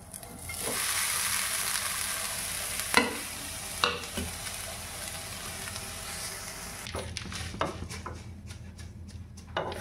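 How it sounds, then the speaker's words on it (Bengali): Cardamom pods fry lightly in ghee in a pan, a steady soft sizzle with a few sharp clinks and scrapes of stirring against the metal, fading toward the end. "এই এলাচগুলো একটুখানি হালকা ফ্রাই করে নেব।"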